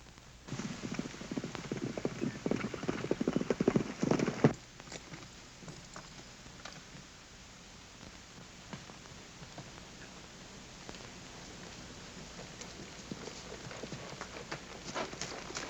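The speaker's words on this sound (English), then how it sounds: "there comes Cassidy now. I'd know that white horse of his anywhere" A white horse approaches on its hooves, first a quick, louder run of clopping beats, then a softer and steadier patter of hoofbeats that continues to the end.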